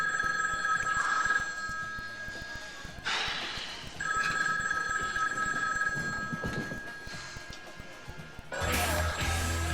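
A telephone in the movie In the Army Now rings in repeated electronic bursts, loud and near, with a crash and noisy clatter between and after the rings.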